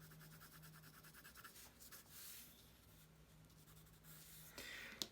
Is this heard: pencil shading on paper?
yes